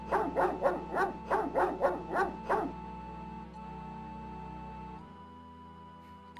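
A dog barks in the video game King's Quest 7, about eight quick, loud barks in a steady run, then a quiet tonal game background.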